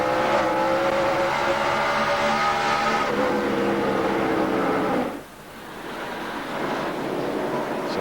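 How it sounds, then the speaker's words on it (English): NASCAR Busch Series race car engine at Bristol in 2004, a loud, sustained roar with shifting tones that drops abruptly midway and then builds back into a steady, powerful drone. "So there's the Stremme car, full view."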